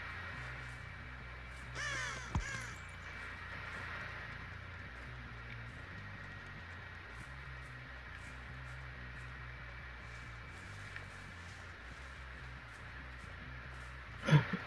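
Crow cawing in a video game, a few faint caws over a quiet, steady background hum, with brief louder bursts near the start and end.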